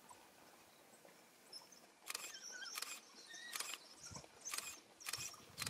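A pack of African wild dogs feeding on an impala gives repeated high-pitched chirping excitement calls in short clustered bursts, faint against a quiet outdoor background.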